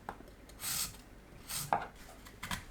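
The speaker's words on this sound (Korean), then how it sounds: "콜라비는 껍질을 손질합니다." Knife peeling the skin off a kohlrabi, a few short scraping strokes in a quiet kitchen, each a brief rasp with a small knock of the blade near the end.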